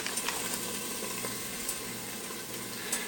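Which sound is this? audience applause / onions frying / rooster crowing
onions frying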